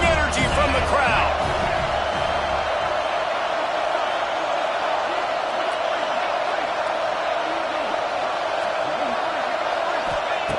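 Football stadium crowd roaring on third and goal in the red zone, a loud sustained din throughout.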